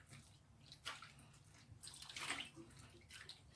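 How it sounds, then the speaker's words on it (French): A wig being lowered into water for washing, soft splashing and sloshing in a few separate bursts, quiet and close, with brief dripping between them. "je le mets dans l'eau"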